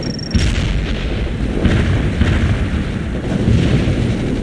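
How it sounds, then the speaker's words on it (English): Machine gun fire in a war video game rattles in a dense, continuous stream of heavy booming bursts, loud and close, with rumbling explosions mixed in. "Fire the machine gun."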